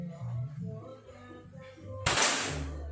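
A single sharp crack of a PCP air rifle shot rings out after a stretch of low background noise, with a hissing tail fading behind it.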